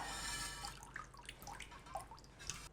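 Water trickling and dripping as the first liquid is poured off a freshly opened oyster, faint close drips and small splashes over a quiet kitchen background.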